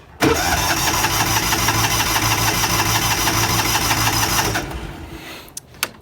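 A Kawasaki Mule utility vehicle's engine cranks and catches, then runs loud and steady with a rattling, mid-pitched drone for several seconds before cutting back to a quieter idle.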